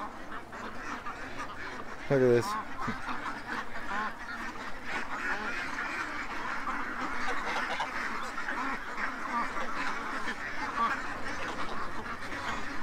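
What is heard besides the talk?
ducks quacking on a lawn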